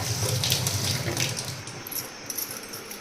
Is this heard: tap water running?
yes